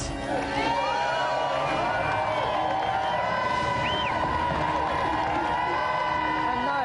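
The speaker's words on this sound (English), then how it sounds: "So let's have another round of applause." A studio audience at a 1994 video game TV show cheers and applauds, a steady loud crowd roar with whoops, under tones of background music.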